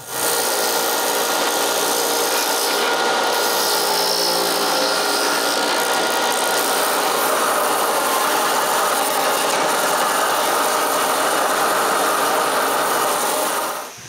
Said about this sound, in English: When I'm done, I finish the job with the sander.